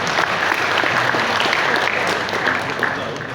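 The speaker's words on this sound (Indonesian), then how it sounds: "Tepuk tangan untuk Polres Banyumas" Steady applause from an audience at a police farewell-and-welcome evening for Polres Banyumas, dense clapping sustained throughout and tapering slightly at the end.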